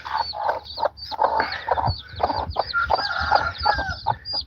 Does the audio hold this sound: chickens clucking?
yes